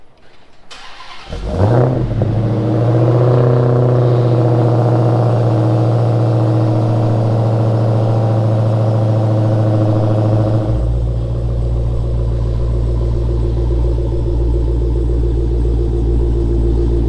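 A supercharged Dodge Hellcat's engine starts and settles into a loud, steady rumble with a sustained supercharger whine, then shifts into a deeper, heavier drone as the car pulls away; no talking.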